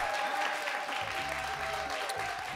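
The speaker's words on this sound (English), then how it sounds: "So in this moment, we could just clap it up for y'all." Steady crowd applause at a live culture showcase, a continuous wash of clapping heard a little distant, with a faint tonal hum running beneath it.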